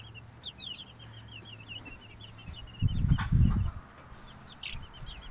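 Baby Brahma and Seabright chicks huddled together peep in quick, high, repeated chirps, with a brief low rumble of handling noise midway.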